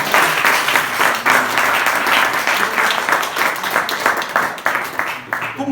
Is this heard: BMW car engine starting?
no